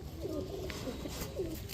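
Faint pigeon coos, three soft low calls at uneven intervals, sound under a steady noisy background at a pigeon seller's market.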